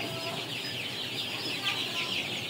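Sonali chickens in a brooder, a dense, steady chorus of clucking and chirping from many birds at moderate loudness, continuous throughout with no speech.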